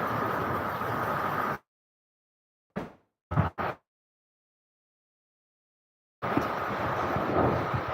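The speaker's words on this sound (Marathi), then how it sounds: "पाऊस लय जोराने चालू झालेला आहे इजा पण मारायली येते पत्र पण वाजायला येते वारा पण लई जोरानं चालू झालेला आहे" Heavy rain driven by strong wind, with metal roof sheets rattling, makes a steady loud broadband roar that cuts out in the middle, leaving a few brief bursts before the downpour noise returns.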